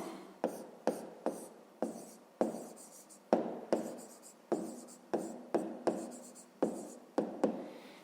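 Quick, even strokes of handwriting during a 5th-grade math lesson, with close scratchy marks and short pauses between them, and no voices.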